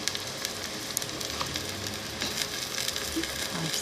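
Chicken added to browned onions in a karahi, frying with a continuous crackling sizzle that holds steady throughout, close and fairly loud, with faint clinks and stirring now and then.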